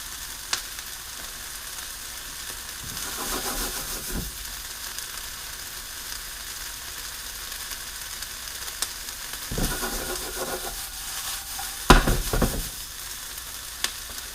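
Soft, gentle sizzling of food frying in a pan, a low steady crackle with occasional brief stirring or scraping noises.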